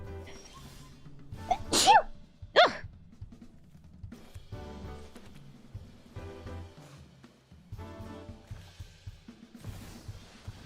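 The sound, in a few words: sneeze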